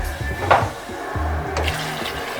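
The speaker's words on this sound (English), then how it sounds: "Now we are going to add water to it." Water pours into a cooking pot of Nigerian yam porridge, a brief splashing gush near the mic with a steady watery wash and low kitchen rumble beneath.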